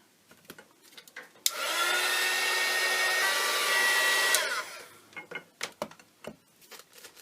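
A hair dryer blows steadily for about three seconds over a collage layer in an art journal, close and loud, with soft handling clicks and taps before and after.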